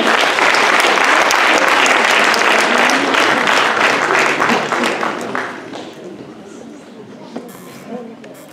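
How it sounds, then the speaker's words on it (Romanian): A ceremonial audience claps loudly for an award honoree, dense sustained applause that thins and fades out over the last few seconds. "De asta vă rog foarte mult să o aplaudem."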